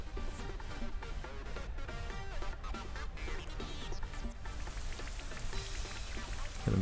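The Rain Dance move in a Pokémon battle game brings a steady patter of rain, heard under the looping game music at a moderate level and without any talking.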